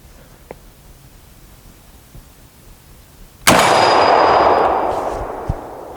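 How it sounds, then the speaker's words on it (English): A Marlin-Glenfield Model 30 lever-action rifle fires a single sharp shot, and a steel plate rings out with a loud metallic clang that decays slowly over a couple of seconds outdoors. "Shoot a new steel plate we got."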